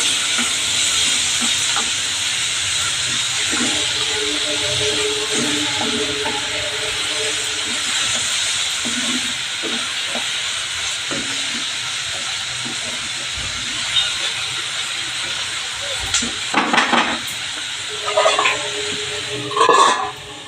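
Tomatoes sizzle and hiss in a pan of softened onions, a steady frying crackle with a few soft stirring clatters near the end.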